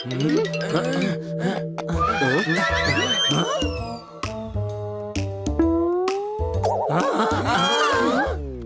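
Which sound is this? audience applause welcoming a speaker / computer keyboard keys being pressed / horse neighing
horse neighing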